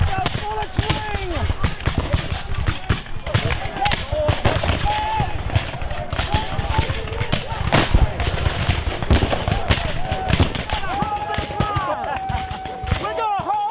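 Rapid musket and rifle volleys crack in dense, overlapping bursts during a Civil War battle reenactment, loud and close, with shouting voices mixed through the gunfire.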